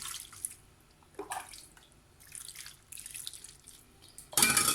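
Broth poured into a seafood paella with shrimp and mussels, soft intermittent splashing and trickling in short spurts, ending in a louder, denser sizzle-like rush.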